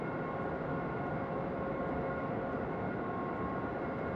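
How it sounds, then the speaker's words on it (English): A train rolls past in the Train Simulator 2014 video game as a steady, dense rumble with a rolling roar that holds at an even, moderate level throughout. "whoa, there's a train coming across."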